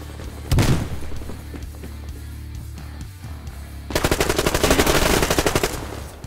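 AK rifle gunfire in the Survarium video game: a single loud shot, a lull, then a sustained rapid burst of automatic fire near the end.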